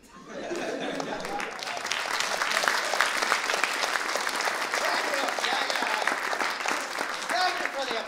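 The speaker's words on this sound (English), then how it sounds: "Thank you for the applause for that bit." A comedy variety show audience breaks into sustained applause, dense crisp clapping rising quickly and holding steady, with scattered chuckles mixed in.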